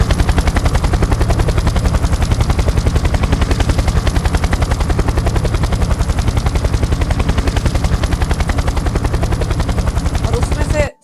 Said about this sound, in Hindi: अचानक से आसमान में आते हैं 50 हेलीकॉप्टर और वो सारे अमेरिकी हेलीकॉप्टर